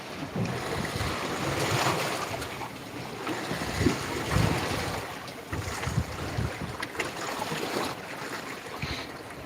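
Wind gusting and swirling over the ocean at night during a fishing and camping trip, mixed with waves and boat noise, with steady rumbling buffeting on the microphone and no talking.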